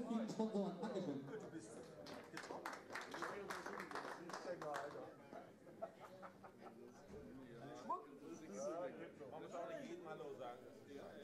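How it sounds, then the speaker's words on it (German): Audience applauding the sponsors at a pool billiards exhibition match, scattered clapping near the start that thins out beneath someone speaking German over a microphone. "Bitte nochmal einen Applaus für die großen Sponsoren"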